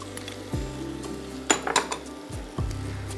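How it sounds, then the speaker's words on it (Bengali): Salad vegetables, including chopped onion, grated carrot and julienned cucumber, are tossed together in a bowl, giving a few scraping clinks and utensil knocks against the dish, with a cluster of louder clatters midway. "আমি এখন আমার সালাদগুলো একসাথে মিক্স করে নিচ্ছি।"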